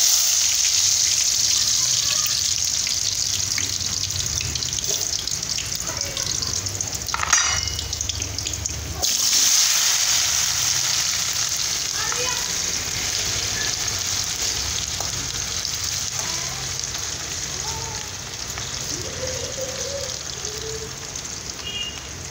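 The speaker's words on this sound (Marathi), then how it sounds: "आता आपण या फोडी याच्यामध्ये टाकून तळून घेऊ." Pieces of elephant foot yam frying in hot oil give a continuous close hiss and bubbling crackle, briefly interrupted by a clatter, then settling into steady sizzling.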